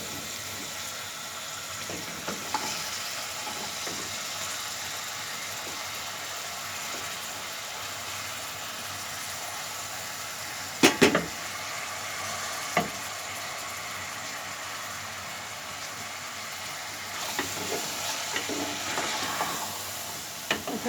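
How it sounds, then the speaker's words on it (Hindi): Broccoli frying in a small amount of oil, a soft continuous sizzle that goes on throughout, with a couple of sharp utensil clanks midway and light stirring scrapes. "ब्रोकली ऑयल में बनाई है और बहुत ही कम ऑयल में बनाई है"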